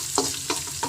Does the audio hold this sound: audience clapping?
no